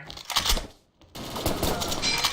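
Rapid gunfire bursts from the Xshot Online shooter game during a competitive match, loud crackling volleys broken by a brief gap, then resuming dense and close.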